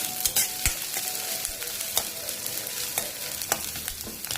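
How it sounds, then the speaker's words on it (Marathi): Onions fry on high flame in a pan for a wild vegetable dish: a steady, close sizzle with sharp stirring scrapes and clicks of the spoon recurring throughout, and no voices. "कांदा मोठ्या गॅसवरच थोडा लाल होऊन जायचा"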